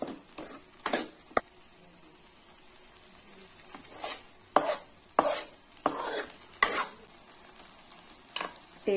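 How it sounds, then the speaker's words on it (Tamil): A spoon scrapes and stirs masala through a sizzling pan for curry leaf curry in repeated bursts, with soft frying hiss between strokes, close and quiet. "அதை சேர்த்து லைட்டா வதக்கி விட்டுறலாம்"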